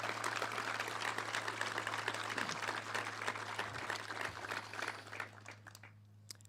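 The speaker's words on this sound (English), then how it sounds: "Let's also give a big round of applause for our band and the great music that they're providing for us today" Outdoor crowd at a Memorial Day remembrance ceremony in Columbus claps for the band, a dense, sustained patter of many hands that thins and fades out toward the end over a low steady hum.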